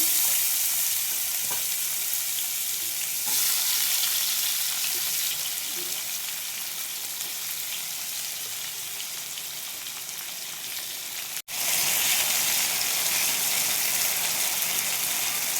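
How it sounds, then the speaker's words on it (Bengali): Potatoes hit hot oil in a pan and fry with a loud, dense, continuous sizzle and crackle that holds steady throughout, briefly cut by one sharp click before carrying on, close and without speech. "এটা গরম হয়ে গেছে, আমি দিয়ে দিলাম আলু।"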